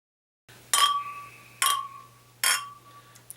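Glasses of farmhouse ale clink in a toast three times, each a sharp bright ring that lingers briefly, spaced about a second apart in a quiet room.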